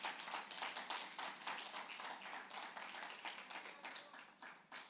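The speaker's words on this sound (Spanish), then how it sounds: "Dale un aplauso al Señor" A church congregation claps in a steady rhythm, quite faint and distant, with no other sound.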